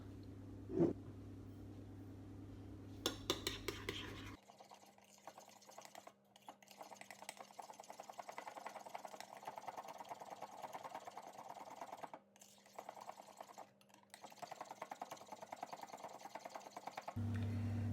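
Egg yolks are whisked with sugar by an electric mixer, whose steady mechanical whirring and rattling runs close and fairly quiet over most of the stretch, with brief pauses and no talking.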